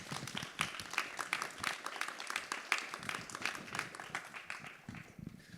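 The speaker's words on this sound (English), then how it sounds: "A round of applause for Muhannad." An audience applauds an artist at an art talk, a steady, fairly faint patter of many hands clapping for several seconds before fading slightly.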